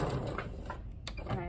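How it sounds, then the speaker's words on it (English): A sewing machine backstitching quilt binding near a corner, running in a short, fairly quiet mechanical burst with faint rhythmic ticking. "And I'm backstitching."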